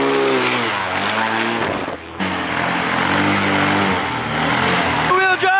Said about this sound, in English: we're about to do a hill climb in an airboat